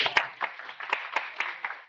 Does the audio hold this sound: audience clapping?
yes